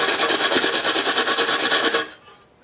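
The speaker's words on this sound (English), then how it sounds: "clean this up with a stainless steel bristle brush here" Stainless steel bristle brush scrubbing an aluminum snow shovel before welding, a loud, rapid rhythmic rasping of about a dozen quick back-and-forth strokes up close, stopping abruptly near the end.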